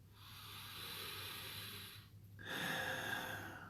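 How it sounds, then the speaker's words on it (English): A slow, deep breath taken in and let out through the nose, a soft airy hiss that swells and dips near the microphone, with no talking over it. "Let's take a breath together"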